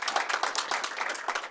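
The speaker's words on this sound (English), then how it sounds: "I think we need to give her a round of applause" A short burst of audience clapping at a city council meeting, close and fairly brisk, lasting barely over a second.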